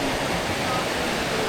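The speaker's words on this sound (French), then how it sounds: "la rivière juste en dessous" Steady broadband rush of river water flowing just below a café near Minoh Falls, a continuous close wash of noise with faint talk underneath.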